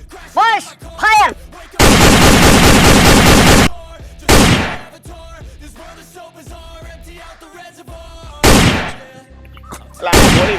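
Gunfire in a Gujarati comedy film: loud sharp bursts, including one long sustained volley of rapid shots, separated by quieter gaps with tonal music and effects.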